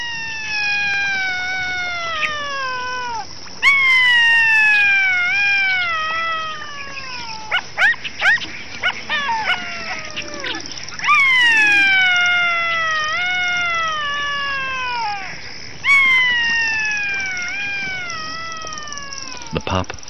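A male jackal on the Ngorongoro crater floor calls for his mate with repeated long, wavering high-pitched wails that slide downward, close and loud, in several drawn-out bouts with brief yips between.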